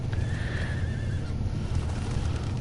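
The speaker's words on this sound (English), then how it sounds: "Let's go check out our steed." A horse in Diablo IV gives a clear whinny near the start, backed by steady low hoof clops and rumble that continue throughout, fairly loud and close.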